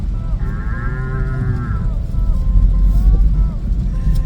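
A human voice imitates a cow, giving one long drawn-out moo followed by a lower, rougher second moo over a steady rumbling background.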